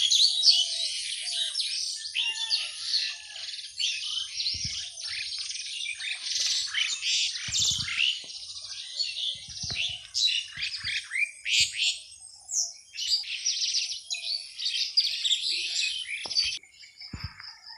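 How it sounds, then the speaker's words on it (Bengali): Small birds chirp and tweet in a foggy village morning, a dense, continuous chorus of bright calls. The chorus is fairly close and steady throughout, with occasional soft low thumps beneath it and no talking. "পাখির কলকাকলিতে মুখরিত পুরো পরিবেশটি কত"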